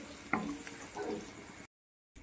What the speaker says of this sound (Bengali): রসুনটাকেও ভালো করে ভেজে নেব পেঁয়াজের সঙ্গে